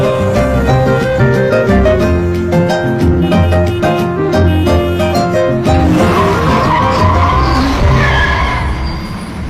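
A car speeds along in a Hindi movie scene, its tires squealing and skidding loudly over a roaring engine and tense music, with the screech rising toward the end.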